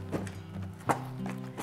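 Hoof falls of a Swedish Ardennes draft horse stallion being ridden in Sweden, a few soft thuds in a slow walking rhythm, close by with a low steady hum beneath.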